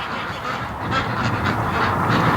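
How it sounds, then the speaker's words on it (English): A flock of ducks keeps up a dense, continuous honking and quacking while heading into their pen at dusk, loud and close, with no talking. "but yet the ducks are going into the pen."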